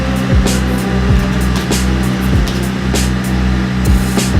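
A Jeep JK engine idling in a garage after sitting unused for about six weeks, a steady, close, continuous rumble with a regular low throb and no talking.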